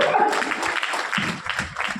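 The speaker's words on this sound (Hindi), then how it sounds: "एक बार निकले जोरदार तालियां बजाए" At a Hindi poetry gathering, the audience claps in a dense, moderately loud burst of applause that swells and thins over two seconds.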